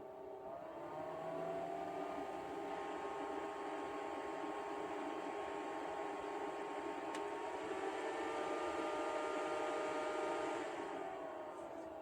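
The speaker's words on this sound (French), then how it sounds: "Et là, j'allume le petit ventilo." Small battery-powered USB-C fan running inside a camper van, giving a steady, even whir with a faint tonal hum that holds constant throughout.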